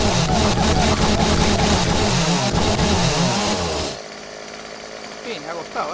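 A chainsaw cuts through a bridge in the PC game 7 Days to Die, a loud, steady engine roar for about four seconds before it cuts off abruptly, leaving quieter background noise and talk.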